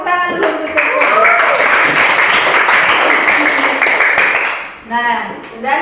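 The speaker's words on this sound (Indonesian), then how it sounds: "Tepuk tangan dulu untuk semua." Classroom students clap together in a broad, dense burst of applause lasting several seconds, with voices chattering over it and a teacher's voice at the start and end.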